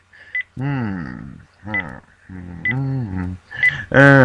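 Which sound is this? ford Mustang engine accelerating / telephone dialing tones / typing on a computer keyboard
telephone dialing tones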